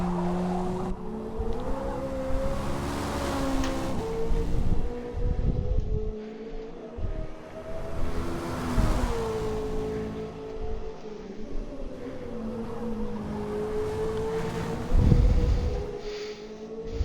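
Prototype race cars pass during a Prototype Challenge race, engines rising and falling in pitch as they sweep by in repeated surges, heard under a steady wash of wind.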